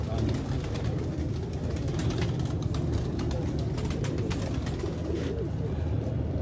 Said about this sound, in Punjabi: ਇਹ ਚੂਹਾ ਕਬੂਤਰ ਹੈ ਉਸਤਾਦ ਹੋਰਾਂ ਦਾ